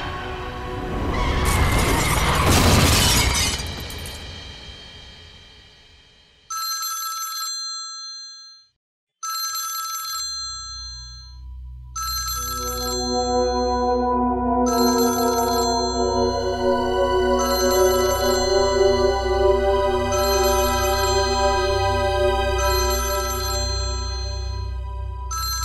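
A telephone rings in a Pakistani drama scene. A crash comes first, then the bright, repeated bell-like rings sound in regular bursts. A low, steady hum of background music enters partway through and continues under the ringing.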